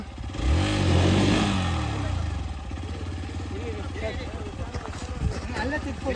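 A Hero Xpulse motorcycle engine chugs and revs low over rough off-road ground, loud and close, while a voice calls out over it.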